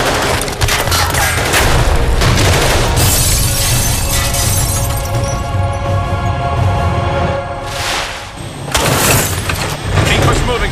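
Dense volley of shots and shattering impacts in a Marvel: Ultimate Alliance 2 cutscene as tranquilizer darts are fired, loud and chaotic with booms, under urgent voices talking over the action.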